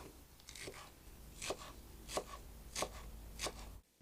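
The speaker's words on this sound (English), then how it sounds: "just chop it up finely" Kitchen knife finely chopping green onions on a board, a quiet steady run of about six crisp taps spaced roughly half a second apart, close and alone without talk.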